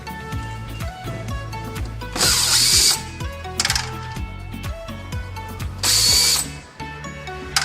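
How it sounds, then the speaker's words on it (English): A power tool driving screws out of a Coffeemar coffee machine, whirring bursts of rising and falling pitch, with a couple of loud high-pitched spells and mechanical clicks between, close and without talk. "So right here we have two screws that we're gonna remove"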